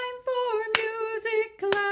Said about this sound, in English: Clap your hands with me.